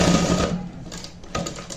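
A simple sewing machine stitches a hook-and-eye onto a blouse, its steady mechanical whir running near and fairly loud, easing off briefly mid-way before picking up again.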